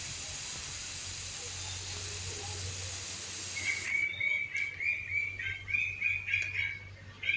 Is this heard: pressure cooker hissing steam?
yes